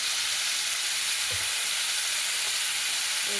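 A pan of fish head curry with turmeric fries with a constant loud hiss of sizzling oil, steady and close throughout, with a faint knock or two and no talking.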